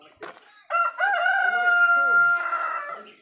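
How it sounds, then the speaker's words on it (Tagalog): A rooster crows nearby, one long loud drawn-out cock-a-doodle-doo rising from a brief opening cluck, with quiet farmyard sounds around it. "gaganda ng mga alaga manok ni Ka Farmer."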